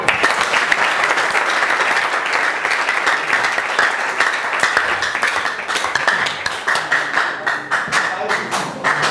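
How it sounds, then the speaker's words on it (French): A class of students applauding together, loud and close, with brisk overlapping claps that continue throughout and become more separate toward the end. "On peut applaudir les mains."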